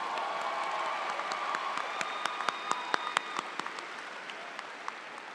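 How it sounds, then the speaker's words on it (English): Audience applause at a high school graduation ceremony, a broad crowd clapping with a few sharp nearby claps standing out and a faint tone running through the first half. "Let's now give them all a round of applause"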